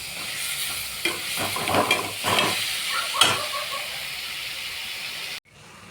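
Curry base for chicken kulambu sautéing in a pan: a steady, loud sizzling hiss with repeated stirring scrapes, cutting off abruptly near the end.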